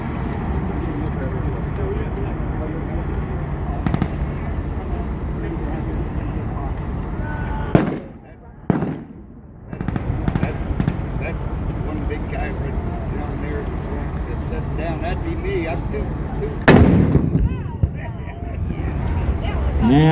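WWII tank battle reenactment with loud cannon blasts: a booming shot near the middle and another toward the end, over continuous engine rumble and crowd chatter in the background.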